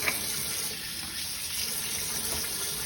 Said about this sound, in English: we've run it under hot water